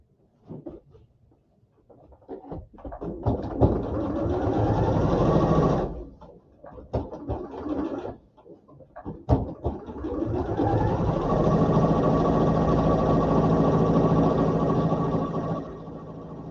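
A sewing machine stitches a pocket seam: close, loud, rapid whirring runs in long stretches, broken by short pauses and brief bursts as the stitching stops and restarts.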